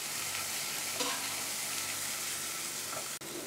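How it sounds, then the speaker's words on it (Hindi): Spices for mutton liver sizzle steadily in a hot pan while being stirred, a continuous close frying hiss with light scraping throughout. "अच्छे से मसाले डालने के बाद हम कुछ देर भूनेंगे।"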